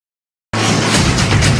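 Congregation at an IFGF Sunday church service applauding to welcome Pastor Tommy, dense crowd clapping that starts abruptly after silence and holds at a steady, full level.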